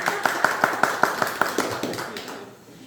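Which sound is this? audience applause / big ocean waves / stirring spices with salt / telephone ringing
audience applause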